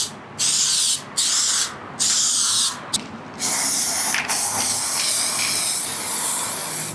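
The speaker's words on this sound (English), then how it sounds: "Let's spray." Black Metal Shield epoxy enamel sprayed from a can in several bursts: four short hisses, then longer continuous spraying, close and loud, with no talk.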